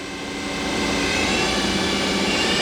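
A new 2011 Feeler HT-30Y CNC turning center runs its spindle at 2,000 RPM, giving a steady, loud, broadband whir that holds an even level throughout with no talking.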